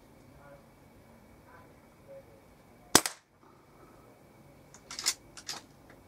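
A Weihrauch HW97 air rifle fires a single sharp, close crack, followed a couple of seconds later by a cluster of lighter clicks and rattles, with long quiet stretches between.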